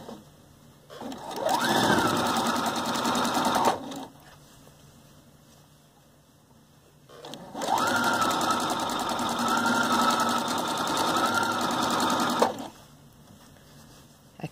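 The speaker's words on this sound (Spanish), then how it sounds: "y vamos a ir cosiendo." A sewing machine stitches fabric for a small toy dog in two sustained close runs of rapid mechanical whirring, each lasting several seconds, separated by a quiet pause.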